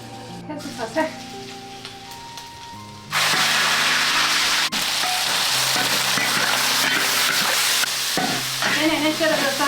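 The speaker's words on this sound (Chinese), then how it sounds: "开始炒菜" Food hits a hot wok and bursts into loud, continuous sizzling while being stir-fried, pickled chili with pork, after a few seconds of quieter kitchen clatter.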